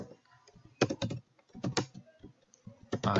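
Someone types on a computer keyboard during an anatomy lesson on the circulatory system. Quick clusters of key clicks come in short bursts separated by brief pauses, close and clear in a quiet room.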